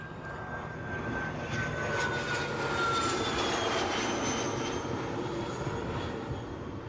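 A jet airliner roars near Newcastle airport, a loud, steady broadband engine rumble with a whining tone that sweeps gradually, heard alone across the whole stretch.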